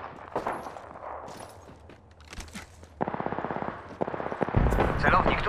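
Sustained automatic weapon fire in Apex Legends, rapid close rattling bursts that start midway and grow louder, with game effects and a voice line earlier.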